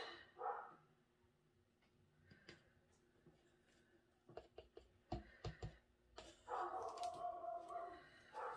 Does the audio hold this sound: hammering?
no